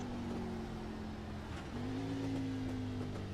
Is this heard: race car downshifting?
yes